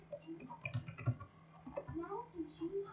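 Short bursts of computer keyboard typing, with a few quick uneven clicks near the microphone, mixed with a person speaking quietly.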